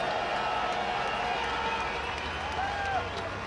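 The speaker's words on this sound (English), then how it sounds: "And listen to the crowd." A large crowd roars and cheers at a MotoGP race as Casey Stoner clinches his first world championship, a steady loud wash of voices with a commentator talking over it.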